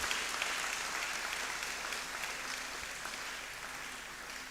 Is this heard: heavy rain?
no